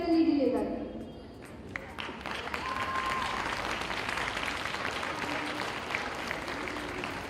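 Applause from an audience for a best center court award at a school netball match between Gateway College Kandy and Good Shepherd Convent Kandy, steady clapping throughout with an announcer speaking over it at the start.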